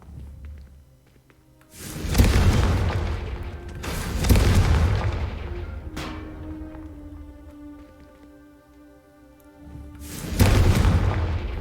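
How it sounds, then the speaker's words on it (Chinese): Deep booming explosions from the Confringo spell in Hogwarts Legacy, three heavy blasts spaced a few seconds apart, each with a long rumbling tail that fades slowly. "Confringo! 哦，爆炸威力好高哦，好猛！"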